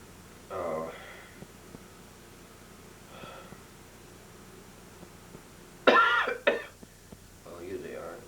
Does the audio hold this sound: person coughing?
yes